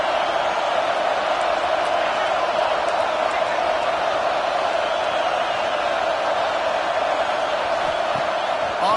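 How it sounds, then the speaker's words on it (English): Steady, dense roar of a college football stadium crowd at an Oregon versus Alabama game, loud and continuous for the whole stretch with no break, a broad wash of voices cheering to back their defense. "Listen to this crowd just shaking the girders of this place,"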